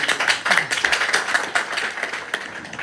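An audience at a live stage tribute to a film star claps in a dense, steady burst of many hands, fairly close and lasting a few seconds.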